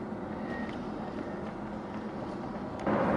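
Steady road traffic and truck rumble at a highway construction zone cutting through mountains, a continuous broadband drone that swells louder near the end, with no talking.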